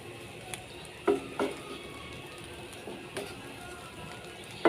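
Fried rice being stirred in a pan, a few scattered metallic scrapes and clinks of a spatula against the pan over a quiet low background, close and fairly faint.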